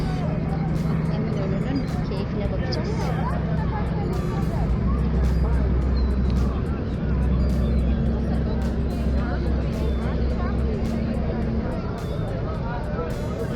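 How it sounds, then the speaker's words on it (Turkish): Busy city ambience under a bridge in Eminönü, Istanbul, with fish restaurants, ferries and fishermen nearby: a steady, loud wash of traffic rumble, engine drone and crowd babble, continuous throughout with no pauses. "İstanbul'un sesi arkadan."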